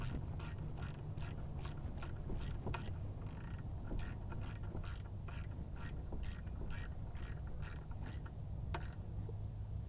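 A bolt is threaded into the alternator of a 2000 Mitsubishi Fuso truck, making a steady run of sharp ratchet clicks at an even, quick rhythm. The clicks are close and fairly quiet, with a low hum underneath.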